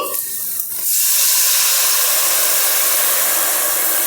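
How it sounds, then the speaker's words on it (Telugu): Tamarind broth (pulusu) being poured into a hot pan over taro root pieces, turning into a loud, steady hissing sizzle that starts abruptly and holds strong throughout. "ఇప్పుడు పులుసు పోసేసుకుందామండి"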